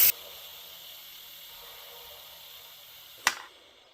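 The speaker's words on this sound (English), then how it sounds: "Still going to be a little steam coming out there, but no pressure." Steam hisses steadily and fairly softly from an Instant Pot Duo pressure cooker after its float valve has dropped, with a brief sharp click near the end.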